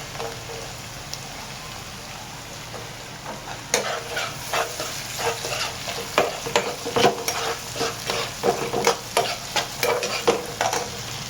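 Tomatoes fry in a masala base for a goat brain fry, giving a steady sizzle under repeated scraping and stirring strokes that turn louder and more rhythmic partway through, with no talking.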